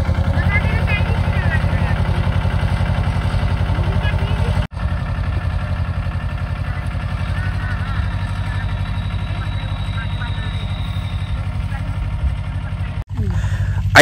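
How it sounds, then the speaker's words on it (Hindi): A mini tractor engine chugs steadily while working a pea field, a continuous close, loud idle-like rumble with two brief cutouts, and voices speak over it. "ये देखिए ये चल रहा है ट्रैक्टर"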